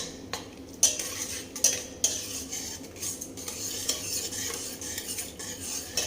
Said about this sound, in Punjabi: ਆਪਾਂ ਇਹਦੇ ਵਿੱਚ 2 ਚਮਚੇ ਤਾਜ਼ੀ ਮਲਾਈ ਪਾ ਲਾਂਗੇ ਨੂੰ ਆਪਾਂ ਚੰਗੀ ਤਰ੍ਹਾਂ ਹਿਲਾ ਲਾਂਗੇ